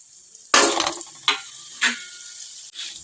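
Whole spices for mutton curry, among them coriander, hit hot oil in a pan and sizzle in sharp bursts, with a strong crackle at the start and several shorter flare-ups after it. Between the bursts a soft frying hiss continues close by.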